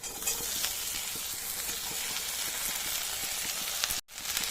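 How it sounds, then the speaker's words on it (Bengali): Chopped okra dropped into a pan of frying onions, a dense continuous sizzle with crackling pops, close and steady, briefly cutting out near the end. "এবার আমি এর মধ্যে দিয়ে দিচ্ছি কেটে রাখা ভেন্ডিগুলো"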